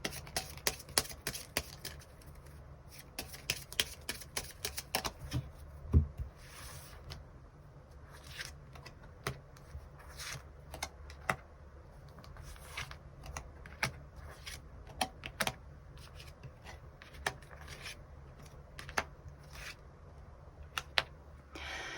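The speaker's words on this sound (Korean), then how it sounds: "추가 카드로 일별로 월요일부터 일요일까지 어떤 일들이 있을지 추가 카드 더 뽑아보도록 하겠습니다" Tarot cards are shuffled and drawn, making soft, scattered clicks, taps and papery flicks at an irregular pace over a long stretch, close but faint, without any voices.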